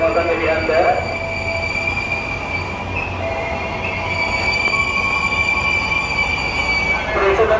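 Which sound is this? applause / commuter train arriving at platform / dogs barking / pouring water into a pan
commuter train arriving at platform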